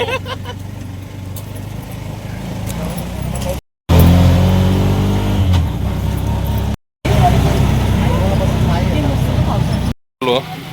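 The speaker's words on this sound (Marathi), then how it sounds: "हे बघा रिक्षा आली आपली फायनली त्या रिक्षाने आपण जाणार खड्ड्यापर्यंत" Auto rickshaw engine running on a rainy road in Khandala village, Ratnagiri, a steady low rumble close by, broken by a few abrupt cuts, with voices and road noise mixed in.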